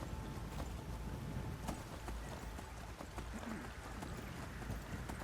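Ghost horse hooves in the video game Skyrim, a run of clip-clop hoofbeats at a steady gallop under a constant windy rush, moderately quiet throughout.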